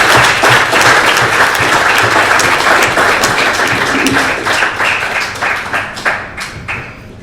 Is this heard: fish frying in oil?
no